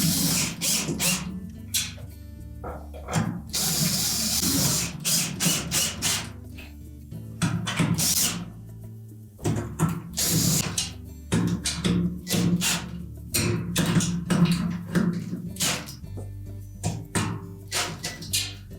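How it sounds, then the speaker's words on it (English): A ratchet tightens the screws on a Whirlpool washer transmission, clicking in rapid close bursts separated by short pauses, loud and without talk. "And make sure we have all 6 of those screws tightened securely."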